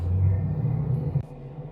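Deep, loud rumble of a simulated rocket launch on a space elevator ride, a steady low roar that swells briefly and then drops away sharply near the end.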